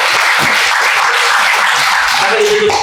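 Audience applause following a university lecture on Islamic nomocracy, a dense, steady patter of many hands filling the room for a few seconds, with a faint voice emerging near the end.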